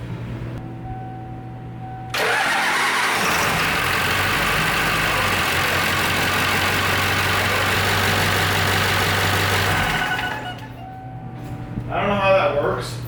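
Ford OBS Powerstroke diesel truck engine, freshly refilled with oil, cranking to life and settling into a loud, steady close-up idle for several seconds before dropping back, with brief mechanical clatter at the end.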